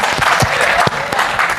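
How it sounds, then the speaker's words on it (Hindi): An audience at a Jeevan Vidya introductory camp session claps, a loud close burst of dense applause with a few distinct sharp claps standing out. "तालियां और हो जाए।"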